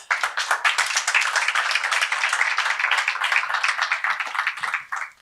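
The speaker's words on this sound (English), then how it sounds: "I think we can give a round of applause" Audience applause at the launch of a mining extraction research centre, a dense, steady burst of many hands clapping close by for about five seconds, fading out at the end with no talk over it.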